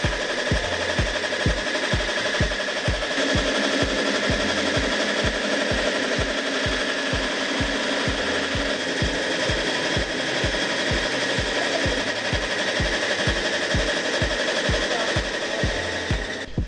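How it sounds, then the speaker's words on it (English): A milling machine in Ghana grinds melon (agushi) seeds with a loud, steady mechanical roar and fast, evenly pulsing thumps that run without a break from start to finish. "The sound of a milling machine grinding melon seeds."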